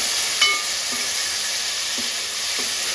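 Tomatoes drop into a hot oil tempering in a home kitchen pan, raising a steady, broad sizzle and steamy hiss that runs throughout, with a few soft stirring clinks.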